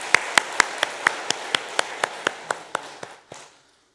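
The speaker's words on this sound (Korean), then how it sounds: "다시 한번 박수해 주시기 바랍니다." Church congregation at a Sunday worship service in Yeongcheon clapping in a steady, evenly spaced rhythm, about fifteen crisp claps that slow slightly and stop.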